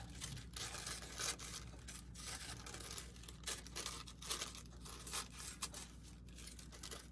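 Scissors cutting out a paper shape: quiet, close snips and crinkly paper rustles in an irregular rhythm, faint overall and with no talking.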